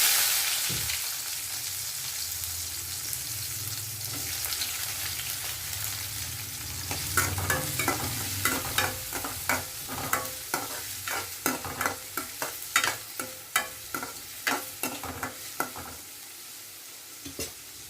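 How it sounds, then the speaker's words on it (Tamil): Onions sauté in a hot pan for a drumstick gravy, with a steady crackle and a run of rhythmic scraping stirs growing louder toward the end. "இந்த 5 நிமிஷம் வதங்கட்டும்."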